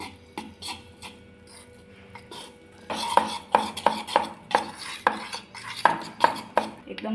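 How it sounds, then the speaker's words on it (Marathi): Flour being stirred into cake batter in a bowl, a steady series of rhythmic scraping and knocking strokes from a utensil against the bowl, close and fairly loud, with no talking. "मैदा टाकला आता आणि मिक्स करून घेते."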